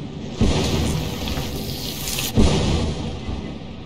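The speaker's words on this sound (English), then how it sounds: "you just have to look out for lightning, it's fine." Thunderstorm inside the video game Lethal Company: steady heavy rain hiss with two sharp thunder cracks, one early and one past the midpoint, each followed by a rumbling swell.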